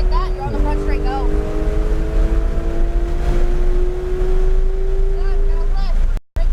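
Porsche GT3 accelerating down a race track front straight, a steady engine tone rising in pitch under strong wind noise, with an instructor's voice heard coaching over it and a brief cut near the end.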